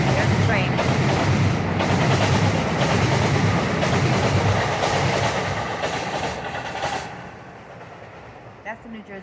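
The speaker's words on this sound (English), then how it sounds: "That's the New Jersey Transit. That's coming from New York." A New Jersey Transit train coming from New York rumbles past nearby with a loud, steady roar and rattle, then fades away near the end, followed by a couple of faint knocks.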